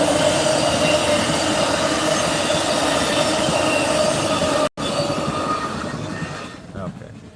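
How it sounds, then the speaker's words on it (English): A train rolls past a camper, close and loud as steady rumbling, clacking wheels and some squeal fill the scene before it fades away toward the end. "Here comes the train."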